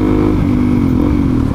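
A Suzuki DRZ400SM 400cc dual-sport motorcycle engine with 19,000 miles, heard loud and close as a steady droning hum at speed, with no talk over it.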